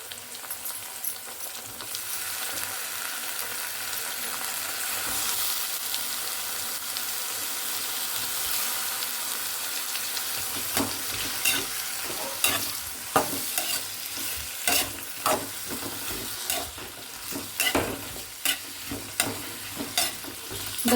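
Brinjal pieces fry with curry leaves in a pan for wedding-style vangibath, making a steady, loud sizzle. About halfway through, repeated close scraping strokes of a spatula begin, growing more frequent toward the end.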